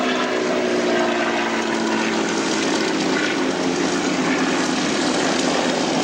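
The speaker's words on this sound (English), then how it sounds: "The jug, E-47, starting his takeoff run" A P-47 Thunderbolt propeller fighter starts its takeoff run at the Duxford Flying Legends air show, its radial engine a loud, steady droning roar with harmonic hum that holds throughout, no voices.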